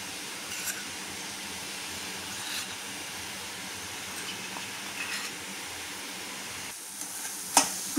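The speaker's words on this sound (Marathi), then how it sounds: "आणि ह्याच्यात मी मिल्क पावडर आता घातलेली आहे आणि ते परतून घेणार आहे मी चांगलं" Grated fresh coconut with sugar, cardamom and milk powder being sautéed in a pan for coconut ladoos gives a steady, low sizzle with faint stirring scrapes throughout and a sharp clink of a spoon near the end.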